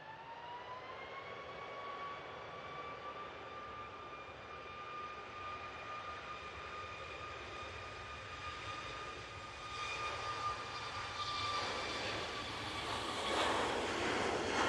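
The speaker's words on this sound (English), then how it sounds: "it's the Malta Air, 737 MAX, off to Alicante" A Malta Air Boeing 737 MAX departs Manchester Airport, its jet engines giving a whining tonal drone over a broad roar that grows louder and rougher toward the end as the aircraft gathers power, with no talking.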